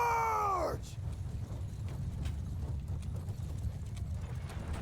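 Steady rapid hoofbeats of horses galloping in a video game drum along continuously after a brief high-pitched cry at the start, a dense galloping rhythm with no talking.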